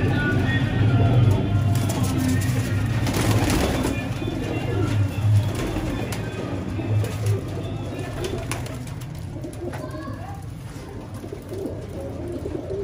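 Domestic pigeons kept as a rooftop hobby flock in the open, cooing steadily up close, with brief wing flaps and a faint hum of distant traffic.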